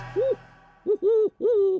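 An owl hoots three times in a short sequence: one brief hoot, then two longer, rising-and-falling calls close together, loud and clear with no talking.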